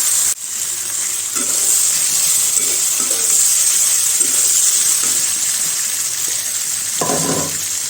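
Spices sautéing and sizzling steadily in a hot pan, with intermittent scraping strokes of a spoon stirring them, continuous and close.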